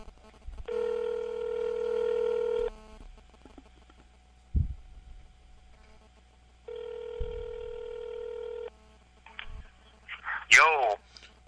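Ahead of an on-air radio interview call, a telephone's ringback tone sounds twice in long steady buzzes separated by a pause. Brief clicks come between them, and a short voice burst answers at the end.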